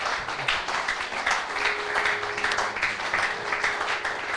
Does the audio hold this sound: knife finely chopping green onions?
no